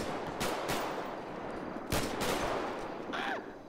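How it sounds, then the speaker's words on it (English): Gunfire in a GTA roleplay game, several loud sharp shots spaced irregularly over a dense noisy background, followed by a brief whooshing effect near the end. "We're shooting too much."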